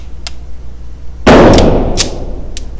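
A single sharp gunshot from a Staccato CS pistol fired at 7 yards, loud and close, with a ringing tail and a few faint clicks around it.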